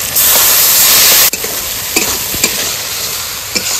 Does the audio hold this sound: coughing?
no